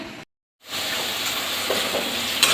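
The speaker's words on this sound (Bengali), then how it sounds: "তো এই পটলটা আপনার ভাজছি আর কি" Pointed gourd (potol) frying in a pan, a steady loud sizzling hiss that starts after a brief silent gap and keeps going throughout.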